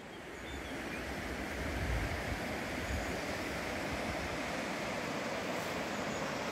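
A steady broadband rush of flowing water, continuous and fairly loud throughout, with no speech.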